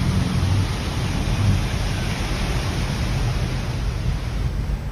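Heavy rain pours down in Japan, at a rate of about 100 millimetres in an hour. It is a loud, steady, dense roar with a deep low rumble underneath, continuous and without voices.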